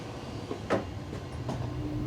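An IET train pulls into Worcestershire Parkway station, giving a low rolling rumble with faint clicks and clatter of the wheels, steady and moderately loud, with a brief higher squeal near the end and no talking.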